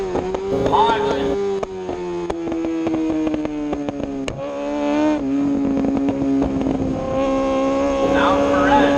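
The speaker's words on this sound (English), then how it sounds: "There's a gaggle of bikes coming up from around the last corner." Racing motorcycles roar past on a track in a pack, engines whining high and shifting pitch as they pass close, with a race commentator talking over the loud engine noise.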